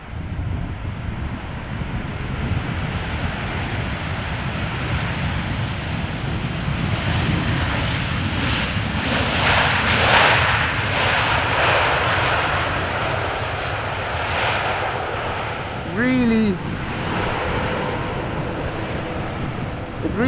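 An Airbus A330 lands at Amsterdam Schiphol after rain, its engines swelling into a loud, sustained roar of reverse thrust that peaks and slowly fades, with wind buffeting the microphone.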